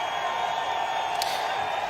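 Golf gallery at the Presidents Cup roars after a drive, a steady, moderately loud crowd swell with scattered whoops, heard alone and sustained across the short moment.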